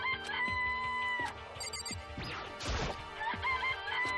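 Rooster crowing in the video game Danganronpa, a crow and clucking mixed with a crash-like smash amid busy game music and effects, fairly loud with no talk.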